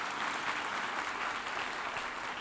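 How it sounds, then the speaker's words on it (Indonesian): Applause from a church congregation, a continuous wash of clapping heard fairly softly and evenly throughout, without pauses. "Beri tepuk tangan bagi Tuhan Yesus."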